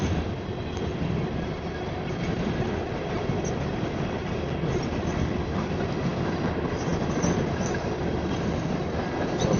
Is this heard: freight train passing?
yes